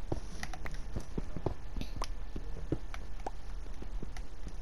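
A horse walks with repeated clip-clopping hoof strikes, a steady uneven rhythm of sharp knocks close by over a constant low background rumble, with no talking.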